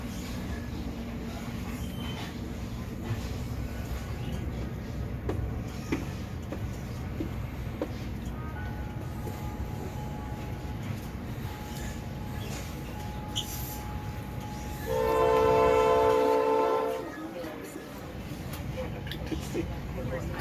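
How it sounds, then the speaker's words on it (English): A North Shore Scenic Railroad train rolls along with a steady low rumble heard from inside a dome car, and a loud horn blast sounds for about two seconds near the end. "The train is now entering Condon Park"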